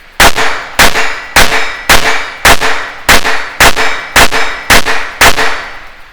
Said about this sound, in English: I'll just kind of shoot at one target here and go at a normal pace